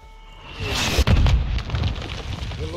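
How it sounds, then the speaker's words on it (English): A single heavy mortar blast in Call of Duty: Modern Warfare 2 bursts close and loud with a sharp crack, then rumbles and scatters debris for about a second before fading into ongoing battle noise. "Mortars, don't stay in one place, Sergeant."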